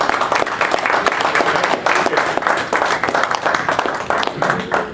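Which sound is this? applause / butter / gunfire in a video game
applause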